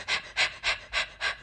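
A person imitating a dog's rapid panting: five quick, breathy huffs in an even rhythm, close to the mic and fairly loud, with no other sounds.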